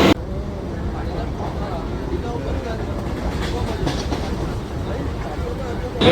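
A train pulls into CST railway station in Mumbai, its steady rumble and rattling wagons filling the space while voices murmur nearby.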